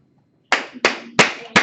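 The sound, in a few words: applause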